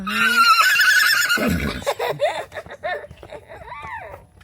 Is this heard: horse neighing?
yes